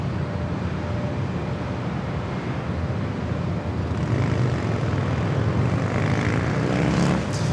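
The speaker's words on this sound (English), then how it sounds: "up next, it's at ATR 72-600 freighter coming in from Tijuana" An ATR 72-600 freighter turboprop arrives at San Diego airport. Its steady propeller and engine roar holds throughout, then swells slightly louder near the end as it draws closer.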